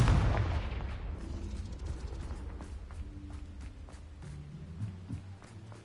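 Confringo spell explosion in Hogwarts Legacy, a loud booming blast at the start that rolls off into a fading rumble, followed by faint ambient game sounds and light rhythmic taps.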